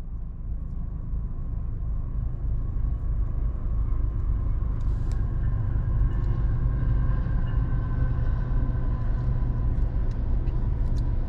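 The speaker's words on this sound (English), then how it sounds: "We got a train at the crossing coming." A heavy, steady rumble of a CSX manifest freight train rolls in at a road crossing, growing slightly louder, with faint metallic squeals and clanks over the low roar.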